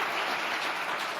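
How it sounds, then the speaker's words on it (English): An audience applauds at a health summit, a dense, steady wash of many clapping hands that holds evenly throughout the brief moment. "Yeah, we can applaud."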